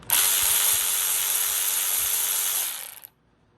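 A Craftsman 20-volt 3/8-inch drive cordless tool, not brushless, runs at about 300 RPM with a steady, close mechanical whir for nearly three seconds before spinning down to silence.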